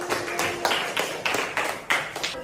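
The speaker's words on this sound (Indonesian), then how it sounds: "Beri tepukannya lagi" Students in a classroom clap together in a quick, steady rhythm of sharp, bright claps, close and fairly loud, with a faint tone running underneath.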